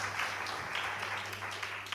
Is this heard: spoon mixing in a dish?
no